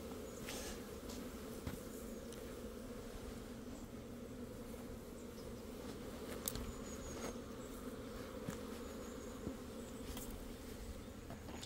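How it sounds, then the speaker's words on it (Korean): Asian giant hornets attack a beehive, producing a dense, continuous buzz of wings that drones on steadily at close range, with scattered faint ticks and taps from the hive. "장수말벌이 셋, 넷, 5마리가 지금 와서 뜯고 있습니다"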